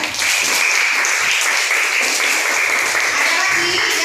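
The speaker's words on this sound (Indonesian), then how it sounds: "beri tepuk tangan untuk Bintia." Classroom applause for a student, a steady wash of clapping from the class that holds at an even level throughout with a faint voice underneath.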